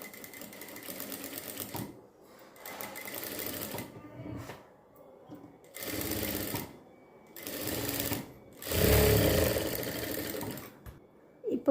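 Sewing machine stitching the curved back neck of a blouse, running in several bursts of rapid steady chatter separated by short pauses, close and moderately loud with no talking.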